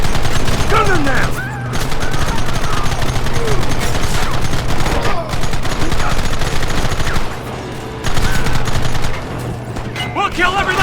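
A dense, continuous firefight in the Western game Red Dead Redemption, with overlapping rifle and pistol shots crackling loudly throughout and shouted voices mixed into the barrage.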